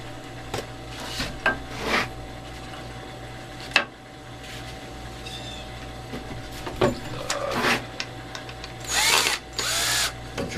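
A power drill drives screws through wood while a bird feeder is assembled, with short whirring bursts of varying length separated by pauses and handling clatter, close and moderately loud.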